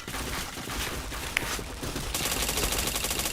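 Rapid automatic gunfire from a first-person shooter video game, a dense continuous stream of shots that grows louder and busier in the second half, with no talk over it.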